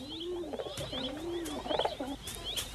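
Pigeons on open steppe give soft, repeated low coos in a gentle rolling rhythm, close and fairly quiet, with a few faint higher chirps mixed in.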